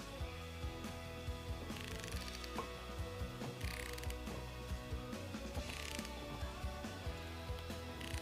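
Ratchet turning an engine over by hand to check camshaft and timing chain alignment, clicking in a steady close rhythm with gear and mechanism creaks throughout.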